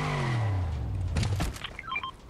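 A car in the video game Fortnite revs up, its engine pitch rising and then falling, followed by short electronic beeping tones near the end, with no talking.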